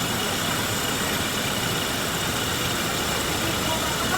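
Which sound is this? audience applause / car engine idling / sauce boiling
car engine idling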